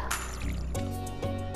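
A watering can sprinkles crops in the farming video game Stardew Valley, giving soft splashing trickles in two or three quick repeats over a low, steady musical background, with no talk.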